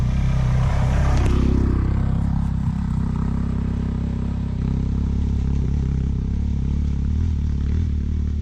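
A motorcycle engine works hard and steadily as it climbs a steep Alpine road during a 24-hour big-bike tour event, loud and close, with some clatter early on.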